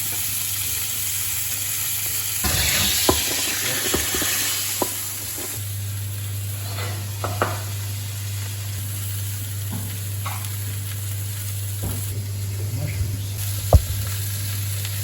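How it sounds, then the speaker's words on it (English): Food frying in hot oil in a pan inside a wood-fired oven gives a steady, loud sizzle throughout, with a few sharp clicks and scrapes from handling and stirring. "I'm going to drop them in the oil."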